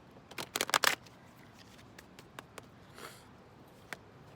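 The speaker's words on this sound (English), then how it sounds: "so let's go ahead and shuffle up the Earth Magic deck" A quick riffle of cards being shuffled, a burst of rapid flutters, then scattered soft taps and a brief slide as the deck settles.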